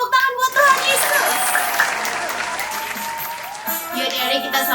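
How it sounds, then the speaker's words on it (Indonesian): A burst of applause from a group at a children's church worship session, clapping steadily for a few seconds with children's voices mixed in. "Kasih tepuk tangan buat Tuhan Yesus."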